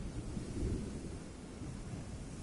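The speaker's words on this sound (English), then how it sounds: "we got thunderstorms coming. We even got the thunder noise." Thunder in a stormy ocean scene of the fishing video game Fishing Planet, heard as a low, steady rumble rolling over a wash of rain noise, moderately faint and with no talking.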